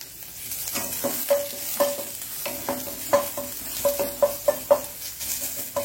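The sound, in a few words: onion frying and being stirred in coconut oil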